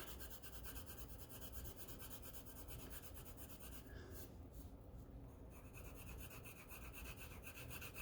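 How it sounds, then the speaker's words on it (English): Graphite pencil shading very lightly on paper while drawing a pigeon, a steady soft rasping rub that continues close and even throughout, briefly easing in the middle. "I'm pressing down super light right now, so like I'm very lightly pressing onto my pigeon."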